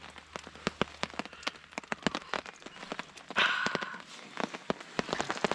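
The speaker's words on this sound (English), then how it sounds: "It is still pissing down rain" Steady rain patters on a surface at a canoe campsite in Temagami, Ontario, with sharp drips and drops scattered across a quiet background and a brief louder swell partway through.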